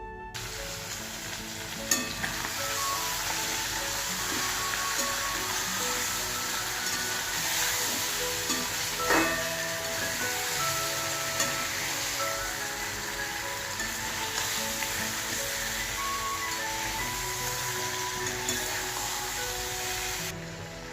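Spice-coated fish sizzles steadily in hot oil in a wok for a home-style fish curry, a dense continuous frying hiss with crackles and occasional stirring clatter, close and loud throughout with no talking.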